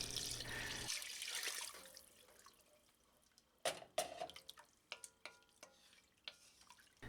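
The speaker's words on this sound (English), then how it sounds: "we're going to add 4 cups of water" Four cups of water poured into a pot for Cajun gumbo, a rushing stream that fades after a couple of seconds, then scattered drips and light stirring clinks.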